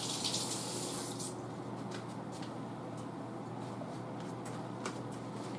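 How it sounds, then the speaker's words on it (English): Running kitchen sink tap with hands being washed beneath it, a steady close hiss of flowing water with light splashing and scrubbing, alone without speech. "Wash my hands."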